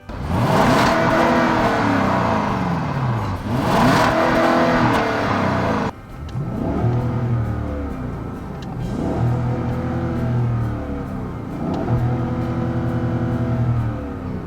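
A Lexus LS 460 engine revs up repeatedly, each smooth, rising whir climbing and dropping back in successive waves, heard from inside the car and fairly loud.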